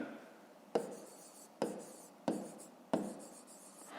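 A math solution is written out by hand, pen or pencil scratching across paper in four distinct strokes with short pauses between them, close and quiet, with no speech.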